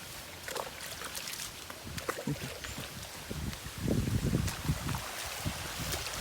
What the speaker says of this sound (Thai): โอ้ยน้ำไหลเนี่ย